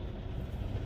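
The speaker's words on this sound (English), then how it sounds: "oh, here another big truck come. He ain't hit me though." Big truck rolling past on a road: a steady, loud low rumble of engine and tires holds through the short moment, close by, with no talking.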